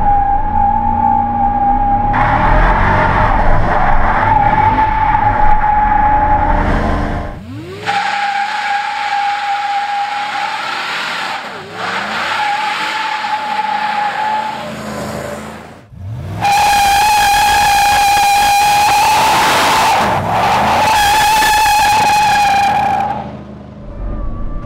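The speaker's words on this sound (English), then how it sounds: "will it do a burnout?" A 650 HP GMC Denali truck with traction control off and in two-wheel drive does a burnout, its tires squealing and skidding loudly and steadily for about twenty-five seconds, with the screech surging and shifting pitch as the engine revs.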